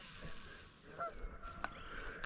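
Goose at a reservoir bank giving a few short, faint honks against quiet outdoor background.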